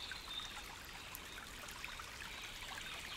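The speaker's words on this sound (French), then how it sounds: "vous découvrez une belle rivière qui s'étend devant vous" A flowing river babbles with a soft, constant hiss and trickle, faint and even, with no voices over it.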